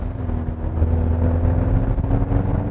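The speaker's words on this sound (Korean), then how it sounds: "여기서 강하게로 바꾸고 다시 한번 엑셀을 밟아보겠습니다" A Kia Sportage facelift accelerates with its active sound design set to strong, giving a steady, loud low engine drone that swells slightly as the throttle stays down. No one speaks over it.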